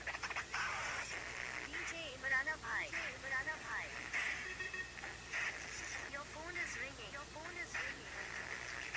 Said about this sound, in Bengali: তো আমি আপনাদেরকে একটু স্যাম্পল শুনিয়ে দেখাচ্ছি।